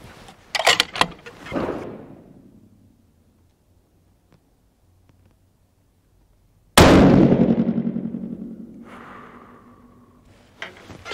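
A 6.5 PRC rifle loaded with H4831 powder fires two sharp, loud shots outdoors in cool weather, each with a booming report and a long echoing tail, separated by several seconds of near silence.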